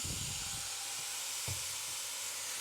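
Soy sauce hitting golden-fried mushrooms in a hot pan gives a steady, loud sizzle and hiss that fills the whole moment, with a brief louder spit partway through and no talking.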